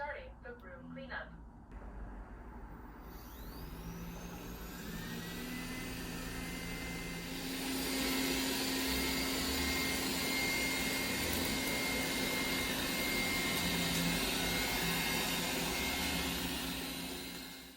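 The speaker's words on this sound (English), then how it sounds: "The robot is starting the room cleanup." A Dreame D9 robot vacuum cleans a room: its steady, droning motor runs continuously, growing louder and fuller partway through and holding at a constant whine, with a few faint clicks at the start.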